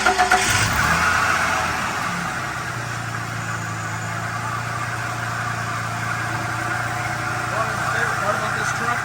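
A truck engine starts up and settles into a steady, smooth idle close by, with a low constant hum throughout and some people talking.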